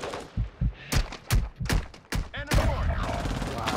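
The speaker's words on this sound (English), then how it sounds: "Oh, somebody shooting at me." A burst of gunfire in Call of Duty: Modern Warfare II, with a string of separate sharp shots in quick uneven succession before a denser rattle, close and loud, overlapping with game sounds.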